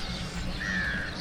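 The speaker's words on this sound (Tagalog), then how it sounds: "Ang daming uwak." A crow gives a single short caw at moderate distance in Koshi Tappu, Nepal, rising briefly over a steady outdoor background noise.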